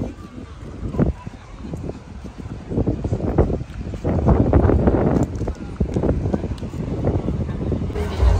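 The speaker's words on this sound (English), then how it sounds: "I know it's probably windy as hell." Steady wind buffeting a microphone on the deck of a cruise ship, with low rumbling gusts throughout and faint voices underneath.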